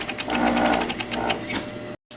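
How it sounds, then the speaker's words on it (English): A serger overlocks the edge of fabric for a homemade swimmable mermaid tail, its motor whirring loudly and steadily up close with a rapid stitching rhythm before stopping abruptly. "I'm just gonna serge it around the edge on this piece"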